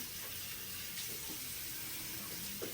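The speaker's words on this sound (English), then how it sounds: "I'm going to start just pouring some water" Water pouring or running from a tap into a sink to wet the face at the start of a skincare routine, a steady broadband wash of flow heard close and alone.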